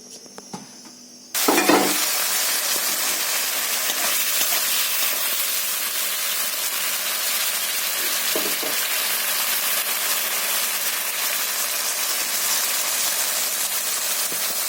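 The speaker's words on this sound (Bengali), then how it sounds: "আর একটু বন্ধুরা আমি আলুটা ভেজে নেব।" After a brief quieter moment, a loud burst of sizzling as potatoes hit hot oil, then a steady, dense frying hiss that continues evenly.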